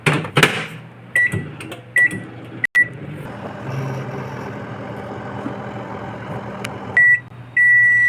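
A microwave oven hums steadily while heating chicken 65, with clear electronic beeps near the start and again at the end, plus a couple of clicks from the door or buttons.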